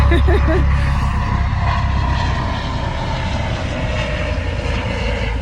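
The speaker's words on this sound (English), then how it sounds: "I'm sorry, there is a helicopter." A loud, steady rotor-and-engine drone from a helicopter passing overhead, continuous throughout, with a voice faintly underneath.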